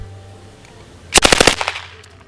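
An MK760 submachine gun fires one quick burst of about eight rounds at an outdoor range, loud and close, with a faint echo trailing off afterward.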